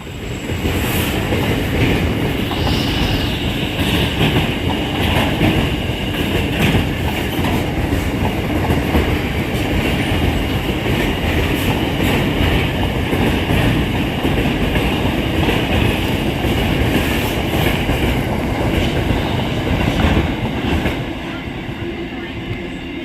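A freight train hauled by diesel locomotives passes steadily at a station for over twenty seconds, with continuous rumbling, rhythmic clickety-clack of wheels and faint squeals, fairly loud and close.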